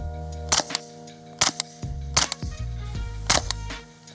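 A suppressed 9mm CZ Scorpion fired at a lightweight Premier Body Armor backpack panel, four sharp cracking shots spaced under a second apart, each followed by a short rattle of the panel.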